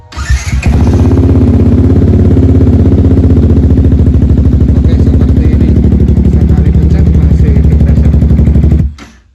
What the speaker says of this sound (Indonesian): Coba kita hidupkan mesin ya